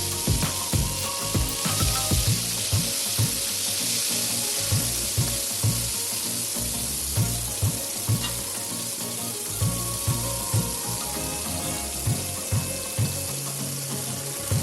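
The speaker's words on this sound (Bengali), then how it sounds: "সেই একই তেলের মধ্যে আমরা কেটে রাখা উচ্ছেগুলো দিয়ে দেব" Bitter gourd slices fry in hot oil for a Bengali sukto, a steady dense sizzle with frequent sharp crackles and pops in an irregular rhythm, close and continuous throughout with no voices.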